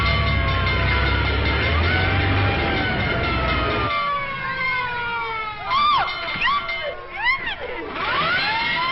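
A wailing siren rises and falls several times on a fire engine in a 1937 film scene, loud over crowd noise and music, with clamour and a rumble early on.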